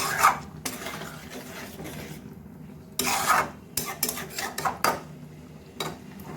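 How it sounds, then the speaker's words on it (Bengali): Eggs being stirred into a Bengali-style duck egg curry in a metal pan, a spoon scraping and clinking against the pan in irregular bursts, close and moderately loud. "ডিমগুলো ভালো করে মিশিয়ে দেব।"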